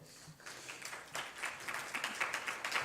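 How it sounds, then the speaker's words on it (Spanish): Audience applause at an international forum on public-private cooperation in Mexico, a steady patter of many hands rising after a quiet start and continuing throughout at moderate distance. "Un aplauso, por favor"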